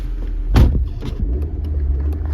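A Mini Cooper S 1.6 turbo JCW with a 6-speed gearbox and 113,831 miles cranks briefly and fires, then settles into a quiet, steady low idle rumble close by.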